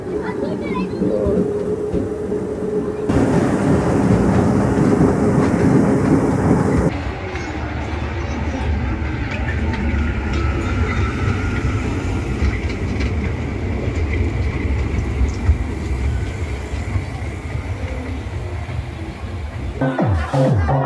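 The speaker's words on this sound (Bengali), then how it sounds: "শুরু হয়ে গেল আমাদের ট্রেন রাইডটা" A small amusement park ride train rumbles and rattles along steadily, its rolling clatter continuous while a person talks over it.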